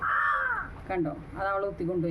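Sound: crow cawing

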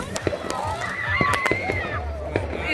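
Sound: fireworks going off

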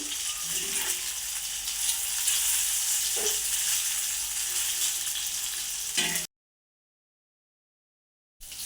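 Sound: fish frying in oil in a pan

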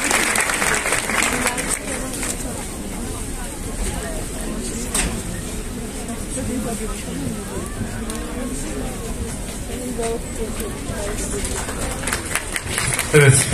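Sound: audience applause welcoming deputy mayor on stage

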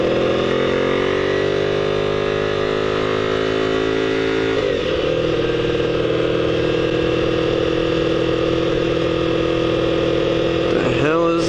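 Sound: Honda motorcycle engine idling with slight throttle

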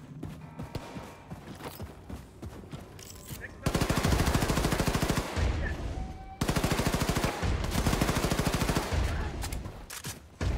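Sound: gunfire in video game Wolfenstein 2: The New Colossus

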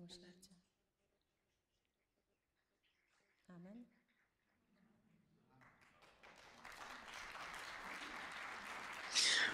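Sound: audience clapping for the Holy Spirit

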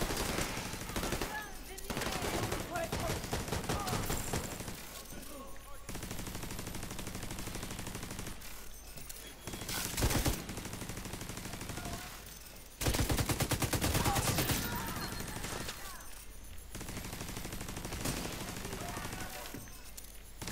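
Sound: turret gunfire in video game The Division 2

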